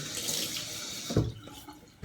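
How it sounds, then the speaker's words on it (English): Hot water runs from a tap onto the bristles of an old shaving brush, a brief close splashing flow with one louder gush near the middle before it thins out. "I'm going to put some hot water up on these old bristles here."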